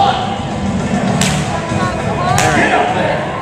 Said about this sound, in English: I think it's a whip sound